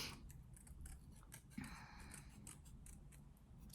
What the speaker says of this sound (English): I'm just cutting out like a rounded shape.